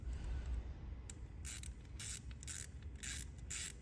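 A size 10 ratchet wrench loosens a nut on a Golf GTI during a spark plug change: short bursts of quick, crisp ratcheting clicks repeat about half a dozen times over a faint background, close to the microphone.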